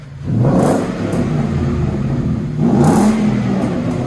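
A 2014 Ford F-150 5.0L Coyote V8 with true dual exhaust, X-pipe and 14-inch Magnaflow mufflers revs twice with a deep, throaty roar, each rise swelling and falling back to a rumbling idle, loud and close.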